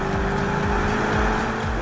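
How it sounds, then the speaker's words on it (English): A turbocharged BMW M5 or Alpina B5 engine drones loudly and continuously while driving, a muted, bassy rumble with rising tone and a faint voice mixed underneath. "because the engine is turbocharged, the soundtrack is a bit muted"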